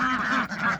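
Ducks on a homestead give a brief pair of raspy, nasal quacks at close range, with no other sound around them.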